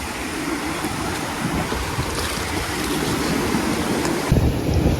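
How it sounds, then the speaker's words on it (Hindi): Sea waves at Murudeshwar wash steadily and close by, mixed with wind buffeting, and grow a little louder and rougher near the end. "समुद्र की लहर है।"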